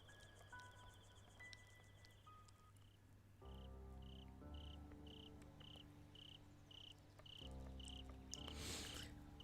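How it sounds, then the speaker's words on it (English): Crickets chirp at dusk in a Higurashi game scene, a steady pulsing trill repeating evenly over layered ambient music, moderately loud and without voices. "The more I wished for their silence, the louder the crickets cried out"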